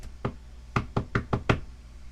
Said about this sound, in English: Once I'm outside her bedroom, I give a couple knocks.